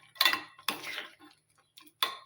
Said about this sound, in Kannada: ಈಗ ನೋಡ್ರಿ, ಇವು ದ್ರಾಕ್ಷಿ, ಗೋಡಂಬಿ, ಬಾದಾಮಿ ಹಾಕ್ತಾಯಿದ್ದೀನಿ ನೋಡ್ರಿ.